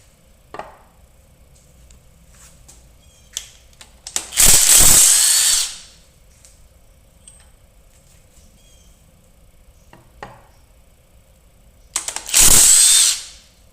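A power tool removing cylinder head bolts from a big block engine, two loud bursts of whirring a few seconds long, separated by quiet clinks and handling of metal parts.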